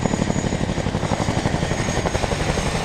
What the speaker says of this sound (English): The crew are now running in for a running landing.